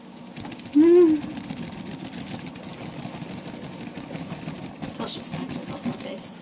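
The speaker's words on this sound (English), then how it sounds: "I got this cute little fan to help it dry a little quicker." A small handheld fan runs steadily while drying freshly applied makeup, a soft continuous motor whir that stays low under a person talking throughout.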